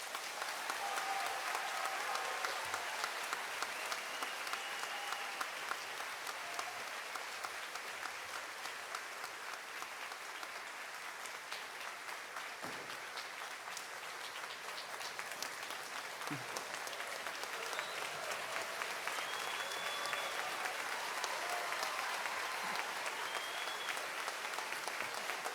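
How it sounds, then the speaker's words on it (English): A school gymnasium crowd at a middle school graduation ceremony applauds steadily, a dense, sustained wash of many hands clapping at moderate distance for the whole stretch without pause. "Please give him a round of applause."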